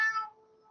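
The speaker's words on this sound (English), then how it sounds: "There's a cat there." A single short cat meow rings out clearly at the start, then trails off into a quiet tonal tail, with no talking over it.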